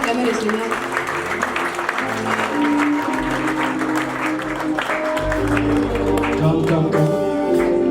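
Church congregation applauding and cheering for the Lord, sustained dense clapping with crowd voices and music mixed in throughout.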